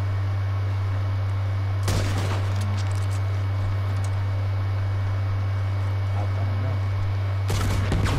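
Two sharp sniper rifle shots from the online game Red Dead Redemption 2, far apart in time, each a loud crack with a brief tail over a steady low hum.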